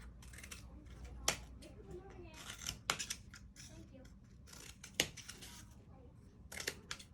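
Scissors snip through paper for a Fourth of July craft, giving a few crisp, sharp cuts spaced out over a quiet room background.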